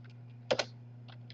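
A few sparse keystrokes on a computer keyboard, two quick close taps followed by fainter clicks, over a steady low electrical hum.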